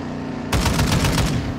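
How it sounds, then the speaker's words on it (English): Rapid bursts of automatic gunfire from a Call of Duty DMZ match start abruptly after a short quiet lead-in, loud and close, with sharp repeated shots and no talk. "I'm just shooting. A whole bunch of guys up here."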